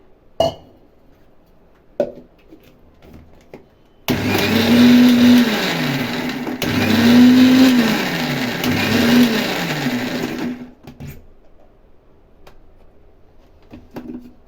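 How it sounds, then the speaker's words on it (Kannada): Kitchen mixer grinder blending avocado with milk, switched on with an abrupt start and run loud for about six seconds, its motor pitch dipping and rising, then cut off, with quiet clinks before and after. "mixie ಹಾಕ್ಕೋಬೇಕಾದ್ರೆ on and of on and of ಮಾಡ್ಕೊಳ್ಳಿ ಒಂದೇ ಸಮಾನೇ ಬ್ಲೆಂಡ್ ಮಾಡ್ಕೋಬೇಡಿ"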